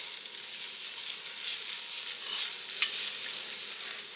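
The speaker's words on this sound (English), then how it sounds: "you're going to add your noodles into this pan. Just kind of get those stirred around in there." Ramen noodles stirred around in a heated pan give a steady, close sizzle and frying hiss throughout, with light scraping from the stirring and no voices.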